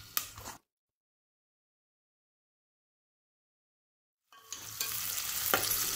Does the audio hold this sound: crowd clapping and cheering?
no